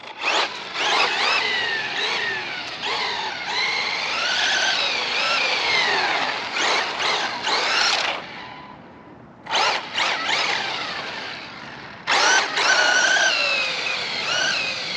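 A Traxxas Mini Maxx RC truck drives in cold weather, its electric motor whining loud and close in rising and falling revs, cutting out briefly twice before screaming back up.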